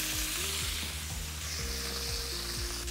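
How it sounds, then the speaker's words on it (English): Shallots and about nine ounces of thawed frozen artichoke hearts sauté in a pan for a pan-seared salmon dish. A continuous, fairly loud sizzle plays with stirring under a stepping melodic background tune. "And I am going to add the shallots and the artichokes. About 9 ounces of frozen and thawed artichoke hearts. And start sauteing them a little bit."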